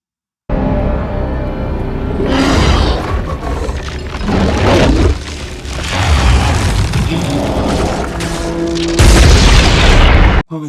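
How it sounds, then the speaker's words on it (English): Loud booming explosions from a Predator film's climax as a freezing bomb detonates inside the creature, with crashing, shattering debris and a fresh blast near the end, continuous and dense throughout. "Oh no, she used the bomb. The freezing bomb from the inside."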